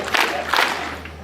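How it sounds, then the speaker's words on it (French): An audience at a celebration ceremony bursts into brief cheering and clapping in two short swells, moderately loud and fading quickly. "Applaudissons!"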